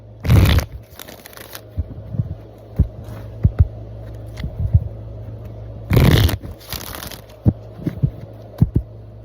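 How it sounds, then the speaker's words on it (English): A tarot deck shuffled by hand over a low steady hum, two longer riffling bursts separated by scattered soft taps and card slaps, close and fairly quiet. "Show y'all me shuffling the cards"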